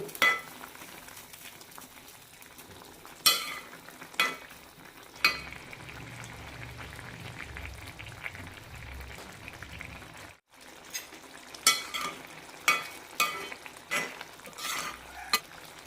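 Drumstick and tomato curry being stirred in a pan, with repeated scraping strokes and clinks of a spoon against the vessel over a soft bubbling simmer, including a brief pause partway through.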